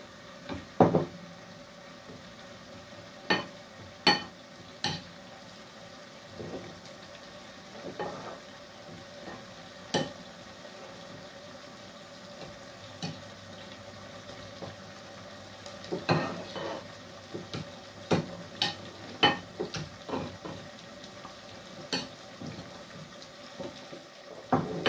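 Mashed potato is stirred and fried in a pan, with a soft steady sizzle under intermittent scrapes and clinks of a utensil against the pan. No one speaks.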